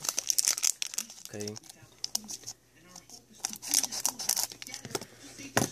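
Pokemon Plasma Blast card packs crinkle and rustle up close as they are cut open with scissors, with bursts of sharp foil crackling while a person talks.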